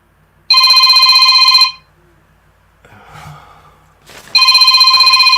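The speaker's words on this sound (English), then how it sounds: "Phone call now." A telephone rings loudly and close by with two bright electronic trill bursts. Between them there is a soft breath or sigh.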